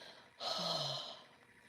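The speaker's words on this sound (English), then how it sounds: "breathing in gentler this time, breathing in through the nose." Someone in a meditation session draws one gentle, soft breath in through the nose, a quiet airy inhale lasting under a second, heard alone in a hushed room.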